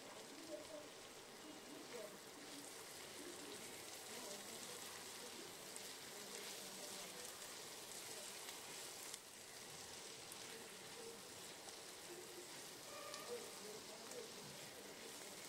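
Small potatoes fry in a pan of oil for a Bengali rui fish kasa, giving a steady, even hiss like light rain, fairly soft and continuous throughout.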